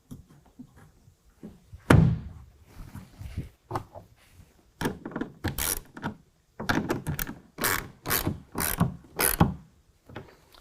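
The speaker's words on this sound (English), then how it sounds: "and then tighten it down with our 9/16" A ratchet wrench with a 9/16 socket tightens a clamp for an Extang Xceed tonneau cover on a 2019 Ram 1500. Close, loud bursts of rapid clicking come in short repeated strokes, separated by quiet gaps.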